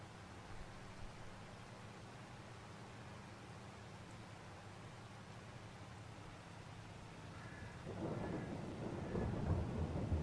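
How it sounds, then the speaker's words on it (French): Thunderstorm weather in the Farming Simulator 22 video game: a steady wash of rain-like noise, then a louder deep rumble of thunder rolling in near the end, with no talk. "l'orage va nous accompagner jusqu'au bout"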